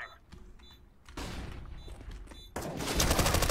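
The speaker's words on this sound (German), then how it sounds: "Flashbang." A flashbang grenade goes off in a first-person shooter game, with quiet shuffling followed by two abrupt loud bursts of noise and a bright ringing wash that stays loud to the end, with no talk over it.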